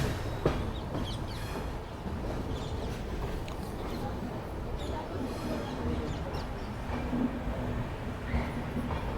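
Indore-New Delhi Intercity Superfast Express running on the line as it approaches Nagda Junction, a steady broadband rumble and rattle of coaches with faint rhythmic wheel clicks, continuous and close, with no talking.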